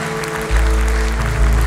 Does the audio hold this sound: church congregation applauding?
yes